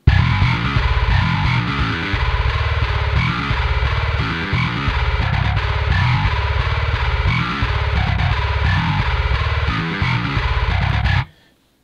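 A heavily distorted bass guitar plays a thick, chugging riff for about eleven seconds, loud and saturated, then cuts off abruptly.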